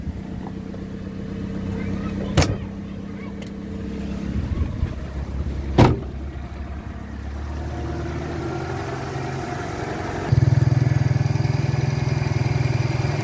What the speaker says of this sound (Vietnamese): Đây tiếng máy nổ ấy, mọi người nhá.